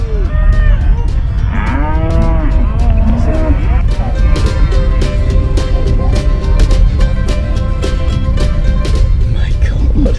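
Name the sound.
herd of cows running and mooing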